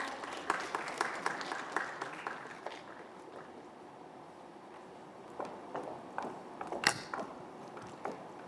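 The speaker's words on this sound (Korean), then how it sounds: "큰 박수로 맞이해 주시기 바랍니다" An audience at a Mungyeong education briefing welcomes a presenter with applause, scattered and fairly faint, with sharper individual claps and some shuffling and tapping sounds as it thins out.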